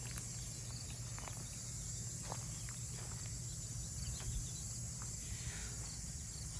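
A continuous shrill chorus of grasshoppers fills a September garden of hanging baskets and flower containers, holding a constant level throughout with a few soft clicks and rustles mixed in, and no voices.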